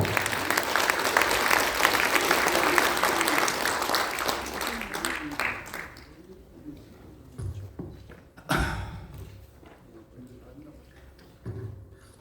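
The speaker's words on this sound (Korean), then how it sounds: "여러분들 큰 박수로 맞이해 주십시오" Audience applause welcoming a former university president to the podium at a political party launch ceremony, steady and full for about six seconds before thinning into scattered claps, a few thuds and room noise.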